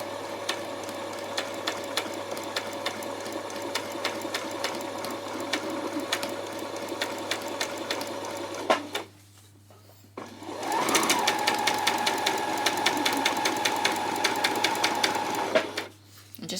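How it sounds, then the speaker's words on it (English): A sewing machine runs a gathering stitch along a skirt with a steady, rapid mechanical whir. It stops for about two seconds partway through, then starts again at the same even pace, close and clear with no talking. "Don't put a back stitch in when you're doing a gathering stitch"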